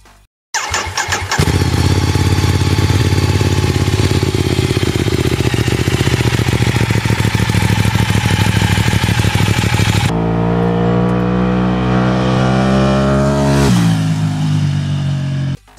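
A motorcycle engine, either an L-twin or a 45-degree V-twin, fires up loudly and idles with a rough, steady throb, then revs up and back down in a couple of surges before cutting off abruptly.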